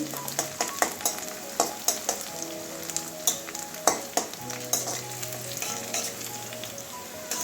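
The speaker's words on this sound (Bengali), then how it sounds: "এবারে একটুখানি নাড়িয়ে নেবো কালো জিরে তাড়াতাড়ি ভাজা হয়ে যায়" Nigella seeds (kalo jeere) sizzle in hot oil in a pan for a Bengali kalmi shak stir-fry, with a steady crackling fry broken by repeated sharp scrapes and knocks of a spatula stirring close by.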